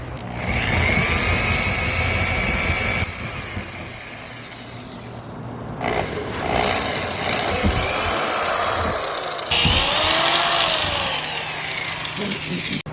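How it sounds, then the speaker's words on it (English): A power drill bores a hole through a bus body, its steady whine running in long stretches with brief pauses and a shift in pitch near the end, close and fairly loud amid workshop noise. "We gotta drill another hole in the bus"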